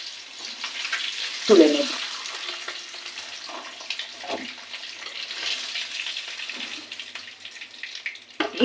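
Eggs fry in hot mustard oil for an egg and spinach dish, giving a steady close sizzle with occasional sharper spits and stirring noises while a voice speaks briefly.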